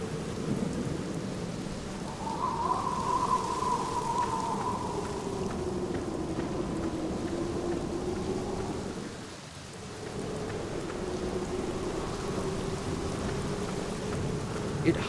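Steady rain pours down in the grounds of a gloomy sanatorium graveyard in the 2003 adventure game The Black Mirror, with low rumbling thunder underneath and a brief dip in the downpour midway, no voices present.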